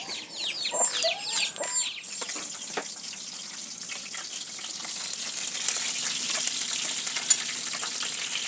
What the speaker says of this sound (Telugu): మాతో పాటు కోళ్ళు కూడా తీసుకొచ్చాం.